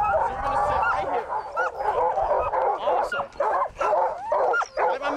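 Sled dogs at a glacier dog-sledding outing, barking and yipping excitedly in a close, loud overlapping chorus, with whimpers mixed in and a person's voice heard among them.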